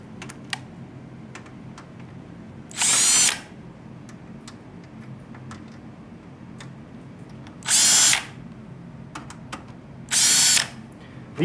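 Short bursts from a power tool back out the screws on the panel of a Rosewell ATX full tower computer case. Three loud whirs of about half a second each are separated by quiet gaps with small clicks and handling taps.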